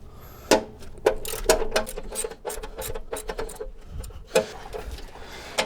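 A wrench works a threaded stud loose from a motorcycle airbox, giving close, irregular ratcheting clicks and metallic ticks in short bursts.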